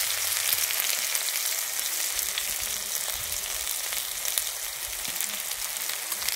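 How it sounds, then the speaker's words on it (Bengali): Chopped onion frying in a pan with whole cumin for a cabbage curry with hilsa fish head, a loud, close, continuous sizzling hiss that holds steady throughout. "আমি যে কুচিয়ে রাখা পেঁয়াজটাকে দিয়ে দিচ্ছি।"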